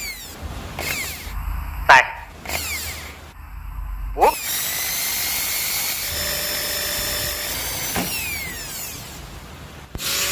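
A power drill whirs and bites into metal while building a homemade vise, starting and stopping in short bursts, then running steadily with a high whine.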